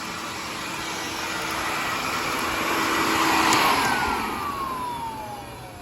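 A 1990s Filter Queen Princess III vacuum cleaner with its original bearings and a long hose runs close by. Its motor gives a steady whirring roar that swells to a peak midway, then eases slightly, with no talk.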